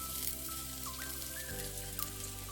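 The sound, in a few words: shallots and garlic frying in hot oil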